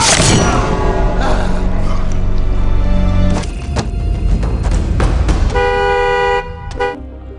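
Loud car horn honks, a long blast followed by shorter toots near the end, with some thumping noise in between.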